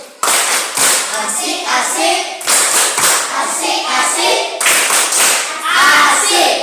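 A classroom group of children performs the rhythmic 'tepuk asik' clap chant, loud close patterned clapping in repeating bursts with children's voices chanting along.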